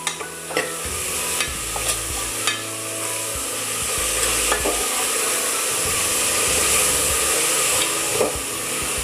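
Onion with biryani masala stirred in a frying pan for masoor biryani, a loud, steady sizzle with a few sharp spoon scrapes and taps near the start and end.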